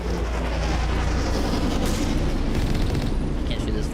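Dense, continuous gunfire and explosive booms from combat in the video game Mass Effect, loud and sustained throughout, with a few sharper bursts near the end.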